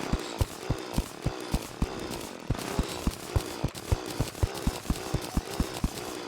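Rapid, regular mechanical drilling pulses, about three per second, with a steady grinding hum underneath and block-breaking clunks throughout, from a cobalt drill mining blocks in Terraria.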